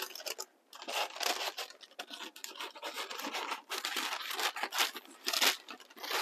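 Scissors cutting paper circles close up, a run of crisp snipping and rasping strokes with short pauses between cuts, with no talk.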